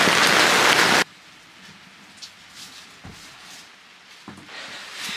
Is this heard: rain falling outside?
yes